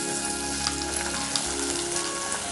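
Tomatoes frying with golden-brown onions in a pan for chicken fry, a dense steady crackling sizzle throughout, close and continuous with no voices.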